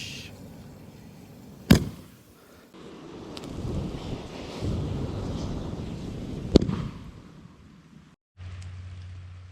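A failed homemade rocket launch: two sharp, loud pops several seconds apart, with a rushing, windy hiss between them and a low hum near the end.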